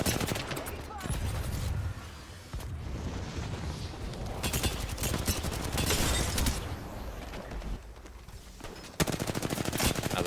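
Loud, rapid bursts of gunfire in the video game Apex Legends, near and dense, with repeated volleys and booming shots running almost continuously over other game noise.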